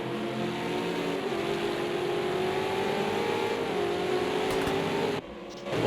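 Racing cars on the main straight at Donington Park in the ANZCRL 2020 Super2 series, engines droning steadily with a rising pitch, then cutting off abruptly near the end.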